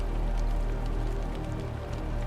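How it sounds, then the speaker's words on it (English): Heavy rain pounding against a car windshield, a dense, steady wash of drumming noise with a low rumble underneath, loud and continuous throughout. "the rain pounding against the windshield, the wipers struggling to keep up"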